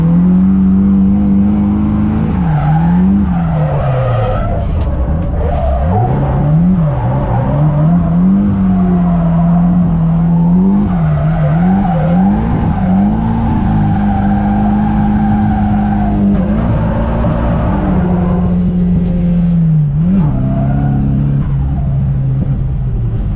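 A Nissan S14 drives hard around a race circuit, its engine droning loud and close with steady revving that rises and dips through gear changes and corners, continuous with no talk.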